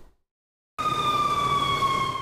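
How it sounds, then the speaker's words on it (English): After a brief silence, a loud, steady emergency siren wail kicks in abruptly in the early morning at an apartment complex after overnight shootings, and holds, backed by a rumbling noisy background. "Loud sirens fill the early morning air"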